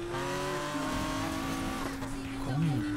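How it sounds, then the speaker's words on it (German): A car engine in the racing video game Need for Speed Payback hums and shifts pitch, its tone rising and dipping with a brief whine near the end, heard fairly close and steady. "Wie hört sich das Auto an, ey?"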